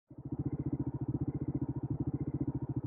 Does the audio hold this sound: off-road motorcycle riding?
yes